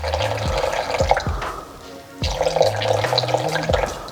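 Water poured into a container on a scale while being weighed for ring casting, a steady trickling and filling sound with short pauses and a brief break midway, close and fairly loud.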